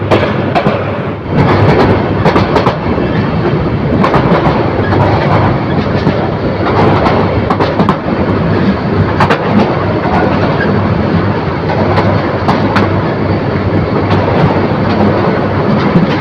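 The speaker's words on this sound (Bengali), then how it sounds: "মহানগর প্রভাতে এক্সপ্রেস ট্রেনটি ধীর গতিতে ঢাকা কাউরন বাজার ক্রস করে যাচ্ছে" The Mohanagar Provati Express passes slowly at close range near Karwan Bazar, Dhaka, wheels clicking rhythmically over rail joints amid a steady, heavy roar that continues throughout.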